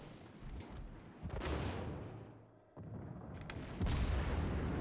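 Naval guns firing in a warship video game, the Soviet cruiser Riga: deep booming salvos at around 1.3, 2.7 and 3.8 seconds over steady rumbling engine and sea noise, loud and close with no talk.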